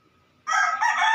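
A single rooster crows loudly and close by, a bright strained call that starts abruptly after a moment of near quiet.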